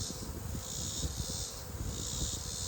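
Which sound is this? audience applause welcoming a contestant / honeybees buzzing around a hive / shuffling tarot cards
honeybees buzzing around a hive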